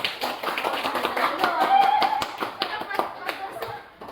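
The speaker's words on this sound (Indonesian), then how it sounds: "Tepuk tangan." Audience applause at a teachers' program session, a steady run of sharp hand claps from a group with faint chuckles mixed in.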